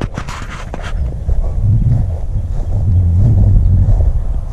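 Gusty wind buffets the microphone with a low, heavy rumble that swells and holds, outdoors at a paramotor flying site with no voices.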